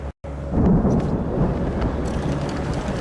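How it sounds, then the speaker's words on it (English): A deep, sustained rumble of thunder with rain approaching in Singapore, rolling on steadily, filling the air with broad low noise like a storm approaching. "Okay guys, rain is coming."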